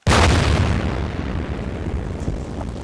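An explosion sound effect from a circuit-bent electronic sound toy bursts out loudly at once, then leaves a long, rough rumbling roar that fades slowly.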